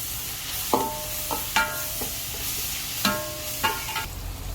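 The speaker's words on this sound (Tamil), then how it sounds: "கருவேப்பிள்ளை கருவேப்பிள்ளை போட்டாச்சு" Curry leaves dropped into hot oil for a bachelor-style vathal kuzhambu, giving several short crackling bursts and spits over a steady low sizzle, close and fairly loud with no talk.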